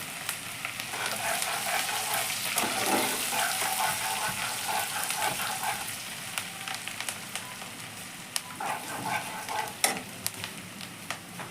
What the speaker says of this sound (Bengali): পেঁয়াজটা একটু ভাজা ভাজা হবে